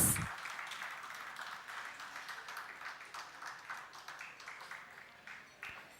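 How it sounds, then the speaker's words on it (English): A conference audience claps steadily after a talk at a business conclave, a dense spread of many hands from a distance that stays fairly even and slowly fades over several seconds. "can we have a big round of applause?"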